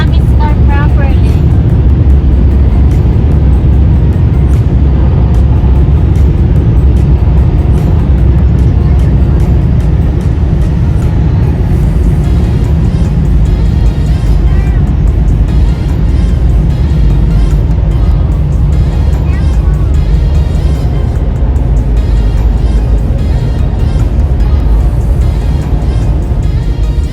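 A car wash dryer blasts air over a car, producing a loud, constant roaring rush that stays close and unbroken for the whole stretch.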